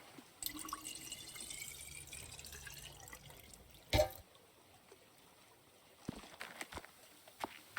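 Water from filling a canteen or water skin in the survival video game Rising World, a faint running trickle with drips and light splashing, quiet and close, with no talking.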